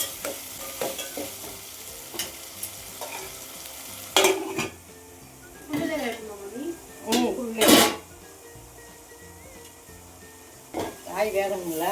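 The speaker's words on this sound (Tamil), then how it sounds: "போட்டு வதக்குறேன்." Vegetables sautéing in a pan for Dindigul thalappakatti biryani: a steady sizzle broken by spoon scrapes and clanks against the metal, close by, with someone talking intermittently.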